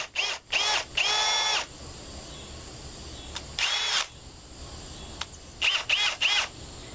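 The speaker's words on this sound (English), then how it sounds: "drill through it" A power drill whirs in several short bursts, each a second or less, with a longer run near the start and quick stop-start pulses at the end.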